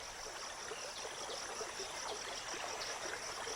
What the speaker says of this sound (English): He turns his nose into the current like a tiny salmon to take advantage of a newly running, rain-fed stream.